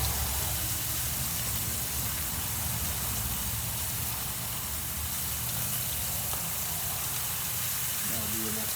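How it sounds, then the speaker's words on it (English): Thin-cut bacon cooking on a barbecue grill, heard as a loud, steady, hissing sizzle that fills the whole stretch, with a voice talking faintly underneath. "Turn that down to low on the bacon."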